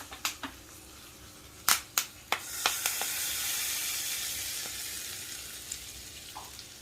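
Asafoetida and curry leaves hit hot oil for tempering tamarind flower dal, popping in several sharp crackles before settling into a steady, close sizzle with occasional small pops.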